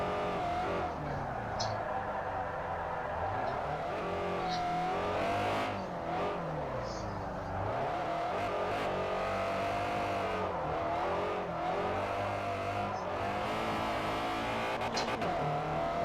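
A car drifts along the Fujimi Kaido mountain road in Forza Motorsport 4, its engine revving and wavering continuously through slides and gear changes, with tire squeal rising at moments and a quiet voice talking underneath.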